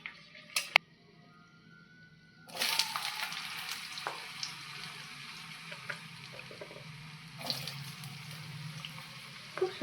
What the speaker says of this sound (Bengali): দিয়ে একটু ভাজা ভাজা করে নিলাম।